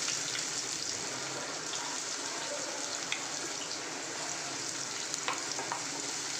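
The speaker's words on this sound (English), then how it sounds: "After 30 seconds of saute of the spices, I am going to add here onion." Onion sautéing with green chilli, garlic and tomato spices in a pan, a faint, even sizzle broken by a few light utensil clicks.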